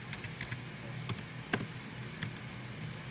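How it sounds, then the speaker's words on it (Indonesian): Keys tapped on a computer keyboard in a quiet room, a few scattered, irregular clicks at moderate closeness with gaps between them and a faint steady background hum. "Sebentar saya ketik."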